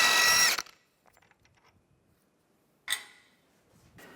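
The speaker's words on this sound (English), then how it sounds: "Use a 32mm socket. Take the axle nut off." A power tool, likely an impact wrench with a 32mm socket, loosens the front driver's side axle nut on a 2007-2013 Mini Cooper during CV axle replacement. One loud, close buzzing burst is followed by quiet clinks and a second shorter burst.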